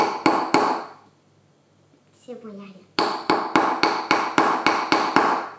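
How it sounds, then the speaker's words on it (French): A hammer strikes a chisel on stone in a string of sharp, loud metallic blows. A few hits come first, then a pause while someone speaks, then a steady run of about ten evenly spaced strikes close by. "pour taper avec le marteau, sinon ça fait mal sur les doigts"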